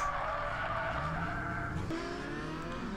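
Drift cars at Lone Star Drift, including an S54-powered car and an SR20 car, slide with loud sustained tire squeal and engine drone, the pitch shifting partway through as the skid continues without talk.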